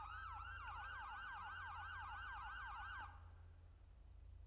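A dual yelp emergency siren from the Luxart Vehicle Control mod in a driving video game, two rapid rising-and-falling wails overlapping loudly for about three seconds, then cutting off and leaving a low engine hum.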